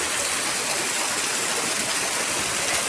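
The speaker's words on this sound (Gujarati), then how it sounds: "કેટલો વરસાદ છે." Heavy rain pours down in an evening downpour, a loud, dense, unbroken hiss of falling water close by with no talk.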